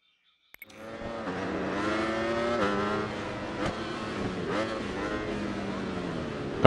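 A Ducati Streetfighter V4S naked sport motorcycle in the racing game RIDE 4 starts after a brief silence and revs up into a loud, rising engine whine, with pitch swings as it shifts and accelerates.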